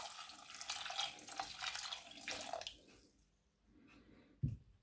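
Water pours steadily into a pot for about three seconds, splashing close by, then stops, leaving a quiet pause and a single soft knock.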